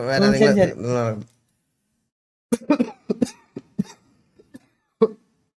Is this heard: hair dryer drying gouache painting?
no